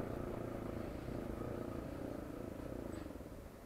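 A motorcycle engine running on alcohol fuel idles with a misfire, a steady low, rough putter heard close and fairly quiet, with no voices over it.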